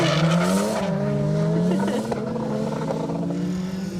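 Rally cars race through a stage of the Menai Stages rally, with a loud close engine howl rising and falling as one car accelerates past, tyres scrabbling, sustained for several seconds with no talk.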